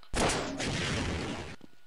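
Gunfire in the video game Half-Life, a sharp loud onset followed by a sustained burst of blasts lasting about a second and a half, then a few faint trailing thuds.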